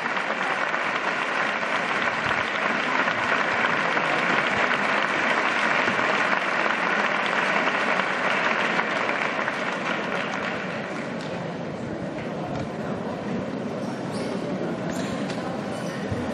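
An audience in the front rows of an auditorium applauds before an awards ceremony, a dense, steady wash of clapping that carries on for the whole stretch, easing slightly in loudness toward the end.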